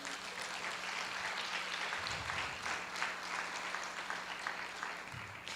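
A church congregation claps together, a dense, even patter of many hands that carries on steadily at a modest level with no voices over it.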